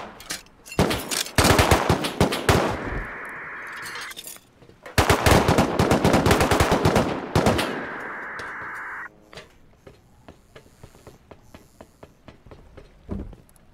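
Automatic gun turret in the survival game Rust firing two long rapid bursts of gunfire with clanging metallic hits, a pause between them, then quieter scattered clatter.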